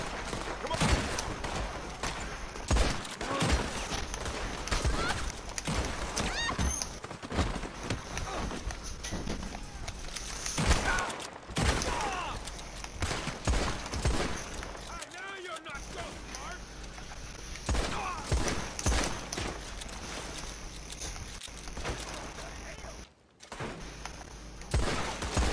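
A Red Dead Redemption 2 Online bounty shootout brings repeated bursts of gunfire, with irregular shots and volleys over running footsteps and hooves, and occasional voices.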